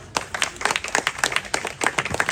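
Audience clapping at a press club gathering in Rajahmundry, a steady run of many hands in uneven bursts, moderately loud and close, with no voices over it.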